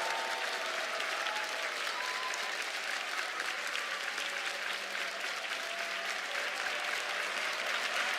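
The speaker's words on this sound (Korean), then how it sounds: "우리 김한효 목사님 나오실 때 큰 박수" A church congregation gives a loud, sustained round of applause as a pastor comes out, the dense clapping continuing unbroken throughout.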